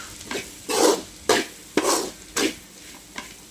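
Broad bean poriyal with plenty of grated coconut being stirred in a pan, five distinct scraping strokes at a steady rhythm over a faint sizzle, close and fairly loud with no voices.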